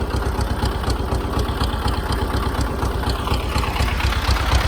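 A tractor engine idles steadily with a low, rapid knocking rhythm, close and continuous throughout.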